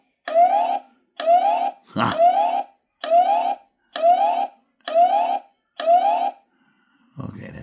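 A loud electronic siren alarm from a Wansview B7 solar outdoor security camera, triggered by motion, sounds in seven short, evenly spaced bursts, briefly interrupted by a sharp knock, then it stops and a low rustle follows.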